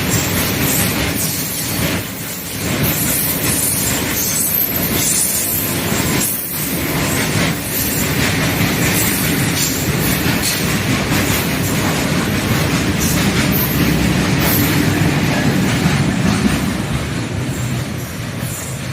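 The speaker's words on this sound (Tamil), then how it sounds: "இந்த ரயில் போன பிறகு நம்ம ஏற வேண்டிய ட்ரெயின் வரும் பாருங்க." An Indian Railways train rumbles past steadily on the tracks near Trichy Fort for the full duration, with a continuous heavy roar, rhythmic wheel clatter and occasional metallic squeal, close and loud.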